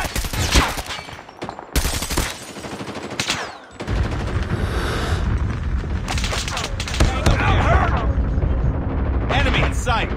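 Call of Duty Mobile gunfight with rapid automatic gunfire and heavy impacts striking the player, loud and dense bursts running almost continuously, with in-game voices calling out amid the shooting.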